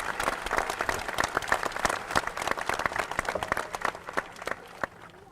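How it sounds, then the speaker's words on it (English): Scattered audience clapping at a high school commencement ceremony, moderately loud individual claps in an irregular patter that thins out toward the end. "How about another round of applause for Reverend Granger?"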